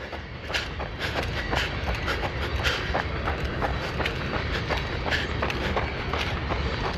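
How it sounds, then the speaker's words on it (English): A train rumbles past in the background on a farm property in the Berkshires, a continuous distant roll with faint rhythmic clicking of wheels on rails, steady and unbroken throughout. "And there's also a train going on in the back."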